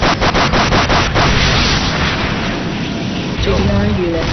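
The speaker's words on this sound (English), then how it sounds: "GDI unit destroyed." A destroyed GDI unit explodes in the Renegade video game with a loud, rumbling boom over rapid battlefield impacts, and a voice speaks near the end.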